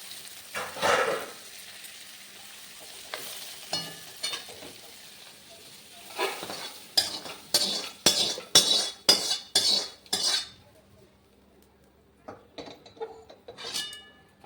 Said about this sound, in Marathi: आपले दाणे भाजून झालेले आहे बघू शकता चला तर मग त्याला एका वाट्यामध्ये काढून घेऊया